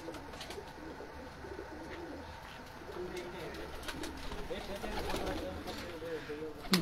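Pigeons coo softly from a rooftop, their low murmuring calls faint beneath someone talking nearby, with light background noise throughout.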